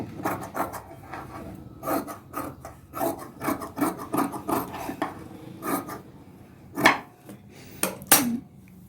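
Scissors cutting blouse fabric pieces, a run of close rhythmic rasping snips in irregular bursts, with two sharper louder cuts near the end and no talking.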